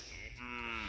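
A single drawn-out bleat from a goat, nearby and moderately loud, with quiet outdoor background and no talking, in the countryside of Joyabaj, Quiché.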